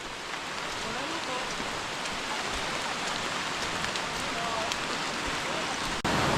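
Steady rain pours on a rainy day outdoors in Martinique, a dense even hiss of drops hitting surfaces with no break, a voice faintly present beneath it.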